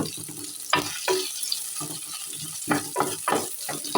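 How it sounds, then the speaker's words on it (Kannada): Onion and chili frying in a pan for a drumstick masala gravy: a steady sizzle broken by irregular bursts of stirring and scraping, close and fairly loud, with no talking. "ಈಗ ಈರುಳ್ಳಿ ಹಾಕಿಕೊಳ್ಬೇಕು ಮೆಣಸನ್ನು ಕೂಡ ಹಾಕ್ತಾ ಇದ್ದೇನೆ"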